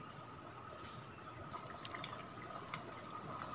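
A pot of sambar bubbling at a steady boil over medium heat, a soft continuous gurgle and hiss with small pops, close by and alone.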